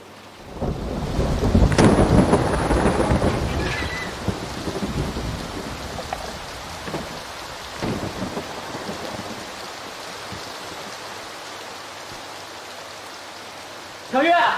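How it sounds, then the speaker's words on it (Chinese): Heavy rain pours steadily with a loud thunderclap rumbling near the start, then a continuous downpour that stays dense and close, with a few softer rolls of thunder in the background. "这么大雨"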